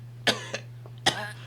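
Two sharp coughs, the first followed by a smaller one, then a third, close by over a low steady hum.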